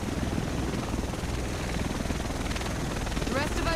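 A helicopter in the video game The Division drones loudly and steadily with a thick rotor wash that fills the whole clip, close and continuous.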